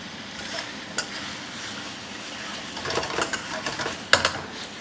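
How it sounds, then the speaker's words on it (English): Crackling sizzle of prawns frying in a hot pan, with a few sharp scrapes and clinks as they're stirred, close and fairly quiet. "Hear that sizzle?"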